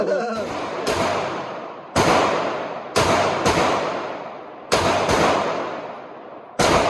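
A Luger pistol fires five sharp, loud shots at uneven intervals, each crack followed by a long decaying echo, with faint background noise between them.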